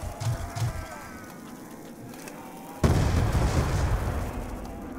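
A gun fires in a town shooter video game as one sudden loud boom with a dense rumbling tail that follows a stretch of quieter ambience with a few soft thumps.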